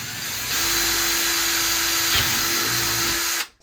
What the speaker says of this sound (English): So now drill into the bracket.